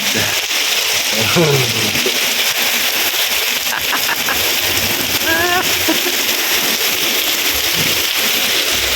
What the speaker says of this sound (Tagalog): Lalong lumakas pa ang ulan.